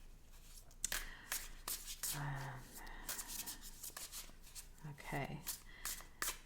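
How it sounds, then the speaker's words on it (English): Thoth tarot cards being shuffled by hand, soft papery riffles and taps in short bursts, with a person speaking quietly over them. "And one more shuffle."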